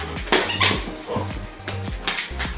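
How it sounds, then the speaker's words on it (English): A pet dog at home barks and whimpers in short bursts while playing with its owner, the sounds close and moderately loud against a low background hum. "I'm actually gonna play with my dog now."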